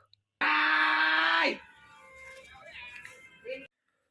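A man lets out one loud, sustained scream lasting about a second after cutting a kite during Uttarayan kite flying, followed by softer vocal noises and background sounds.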